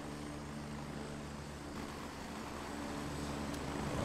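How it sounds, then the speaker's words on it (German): A helicopter in the military shooter game Gray Zone Warfare gives a steady, droning rotor and engine roar that holds at an even level and swells a little toward the end, with no talk over it. "weil noch ein Heli auf mir landet"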